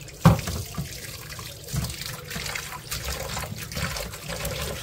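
Raw cleaned prawns rinsed under a running kitchen tap, a steady splash of water into a sink with small shifts as the prawns are moved by hand, close and moderately loud.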